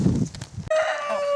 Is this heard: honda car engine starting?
no